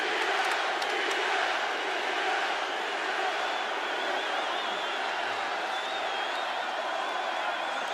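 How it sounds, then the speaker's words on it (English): An MMA arena crowd roaring and chanting Diaz for Nate Diaz during his fight with Conor McGregor, a steady, dense wall of crowd voices heard from a distance with no pauses. "the chants of Diaz ring through the crowd"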